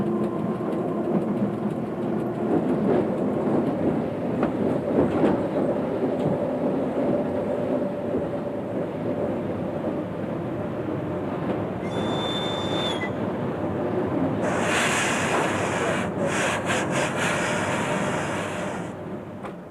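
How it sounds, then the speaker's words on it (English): A Trans-Siberian train stands during a locomotive change, with Soviet-designed, Czechoslovak-built locomotives. A steady, loud low rumble of engine and rail machinery continues throughout, with a few brief higher hissing and squealing bursts near the end. "We're changing locomotives."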